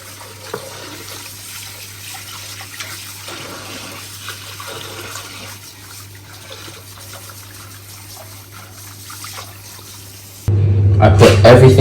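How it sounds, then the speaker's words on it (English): Water from a tap gushes suddenly and loudly near the end for cleaning out equipment, following a long stretch of quiet handling noise and faint background hum. "I'm just going to clean this out and wash everything with water."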